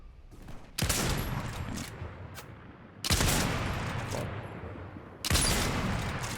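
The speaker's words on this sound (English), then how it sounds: "Shotgun." Shotgun fire in a video game: three heavy blasts spaced a couple of seconds apart, each slamming in loud and close, then trailing off into a long rumbling decay.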